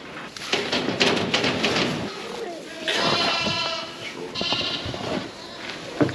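Newborn lambs bleat several times nearby on a farm, high and wavering, mixed with rustling and a person talking.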